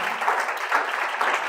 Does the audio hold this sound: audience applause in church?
yes